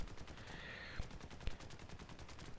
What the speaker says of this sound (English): Firing only machine guns.